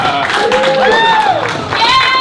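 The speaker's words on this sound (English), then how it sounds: "Give some applause for this lady right here." Studio audience at a comedy game show cheers and whoops for a contestant who answered correctly, a loud continuous crowd roar with rising yelled voices over dense clapping.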